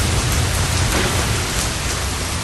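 Radio-play storm effect of heavy rain pouring down, a loud, dense, continuous hiss and rumble with no voices.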